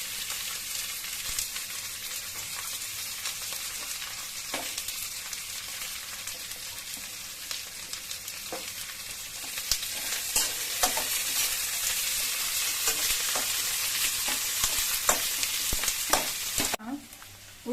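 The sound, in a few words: onions frying in oil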